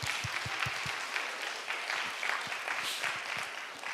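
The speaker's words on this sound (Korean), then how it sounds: "박수 한번 할까요?" A church congregation at a Sunday service claps in a soft, fairly distant patter, with a few sharper claps standing out near the start.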